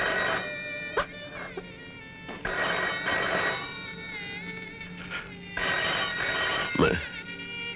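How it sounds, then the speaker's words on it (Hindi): A telephone rings in a Hindi film scene, in several repeated bursts with short pauses between them, fairly close and clear. "फोन सुनकर आता हूं।"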